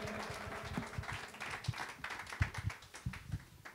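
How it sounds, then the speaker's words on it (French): Audience applause at a Saturday youth program, a thunder of clapping for two young rappers: scattered, uneven hand claps with irregular sharp taps, moderately loud and steady throughout. "un tonnerre d'applaudissements pour Brian et Donovan"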